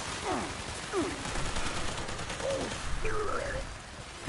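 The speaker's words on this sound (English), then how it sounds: "I'll stick with the thunder cannon" Thunder cannon weapon fire in the video game Fallout 76, a dense run of repeated booming shots and bursts over a busy mix of game effects, with chirping sweeps overlaid.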